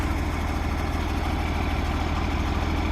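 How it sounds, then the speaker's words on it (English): A tractor engine idles steadily, a low, even, rhythmic rumble heard close and alone with no voices. "I went and bought a tractor."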